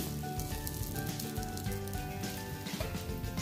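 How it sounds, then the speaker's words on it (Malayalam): Stuffed buns dipped in batter sizzle in hot oil, a continuous close crackling fry with no voices. "എല്ലാം ഇതുപോലെ മുക്കിയിട്ട് ഒന്ന് ഫ്രൈ ചെയ്ത് എടുക്കണം"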